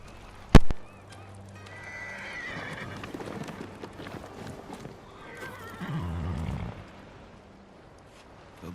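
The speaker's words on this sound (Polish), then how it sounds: "Nie zrzucisz mnie, co, koniku? Przypominasz mi konia ojca." A horse in the samurai video game Ghost of Tsushima gives a loud, sharp whinny, then snorts and shifts about with soft hoof sounds and rustling, and a low rumbling grunt near the end.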